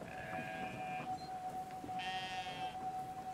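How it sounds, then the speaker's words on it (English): Sheep bleats in the video game Brothers: A Tale of Two Sons, two drawn-out bleats with a high steady in-game tone beneath, moderately quiet and alone. "I'm going to carry the sheep all the way over."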